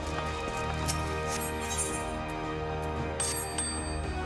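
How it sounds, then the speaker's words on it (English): A summoning bell chimes in Final Fantasy XIV, a bright ringing tone standing alone over a faint game background with no talk. "there's a summoning bell there too"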